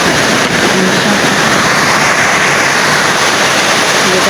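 Heavy rain driven by strong gusts outside, heard as a dense, loud, continuous roar of water and wind noise with no breaks.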